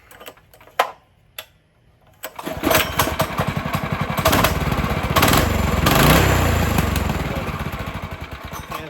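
A small two-seater go-kart engine with a freshly changed spark plug gets a couple of sharp clicks and pulls, then catches and runs with a loud, steady rapid putter that swells and eases slightly for several seconds, close to the listener.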